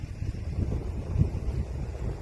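Wind blowing near a mountain wildfire in Oksan-myeon, Uiseong County, South Korea, a steady low rumble buffeting the microphone in gusty pulses, with no one talking.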